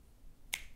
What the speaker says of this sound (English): we can apply mindfulness with finger snap.